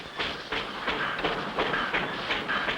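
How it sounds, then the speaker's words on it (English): A small mountain train rattles along in a steady clickety-clack rhythm, with regular metallic beats and a faint hiss, fairly close and without talk. "How do you like this little train, Spinner?"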